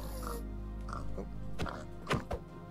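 A Minecraft pig gives a few short oinks and grunts in a quiet game scene, spaced over a couple of seconds, with a couple of sharper snorts near the end.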